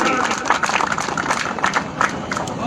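Clapping from a crowd at an Aam Aadmi Party rally in Karauli, Rajasthan: a lively, fairly loud burst of applause with rhythmic claps throughout, mixed with crowd noise.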